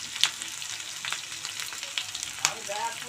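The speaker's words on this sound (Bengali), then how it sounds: "তেল গরম করে নিয়েছি, কাঁচা পেঁয়াজ লঙ্কা আর শুটকি মাছ দিয়ে ভালো করে ভাজা ভাজা করে নিচ্ছি" Dried fish frying in hot oil with raw onion and green chili, a steady close sizzle broken by a few sharp spatters and stirring scrapes, with no talking.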